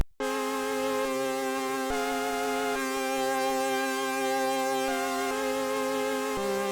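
Sustained synth chords with rich harmonics change every second or so, with a subtle pulsing motion effect running through the steady, full sound.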